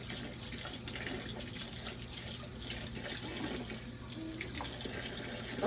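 Hot tap water runs steadily from a faucet as a piece of wood is rinsed in a sink, a soft continuous splashing and trickling heard fairly quietly and alone.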